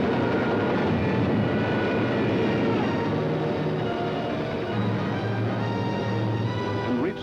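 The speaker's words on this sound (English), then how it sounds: "Some of the German bombers broke through London's defenses." German bombers fly over London in a 1943 wartime film soundtrack, a continuous, droning aircraft engine roar with a steady mid-level rumble throughout.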